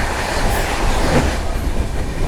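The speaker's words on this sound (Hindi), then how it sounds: "फ्लैट 130 की रफ्तार में दौड़ते हुए जा रही है अमृतसर शताब्दी।" New Delhi–Amritsar Shatabdi express train racing past at about 130 km/h, a loud continuous roar of wheels and wind with rail clatter, close and steady throughout.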